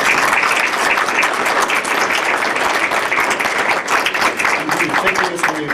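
Close, loud applause for the immediate past chair at a full commission meeting, a thick, steady burst of clapping from the room with voices faintly mixed in.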